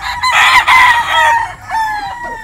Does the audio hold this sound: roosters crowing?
yes